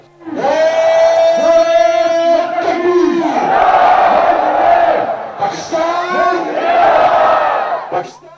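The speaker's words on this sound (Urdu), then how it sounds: "ہاتھوں میں قومی پرچم تھامے پاکستان زندہ باد کے نعرے لگائے۔" Students from a technical institute chant Pakistan Zindabad slogans at the Wagah border, a loud crowd of voices shouting in unison with repeated rising and falling call-and-response bursts, close and continuous.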